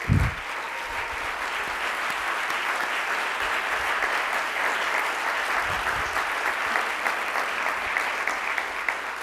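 A seated audience at the 2012 PEN American Center Literary Awards ceremony breaks into steady, sustained applause, a full even wash of clapping from the whole room that keeps going without pause.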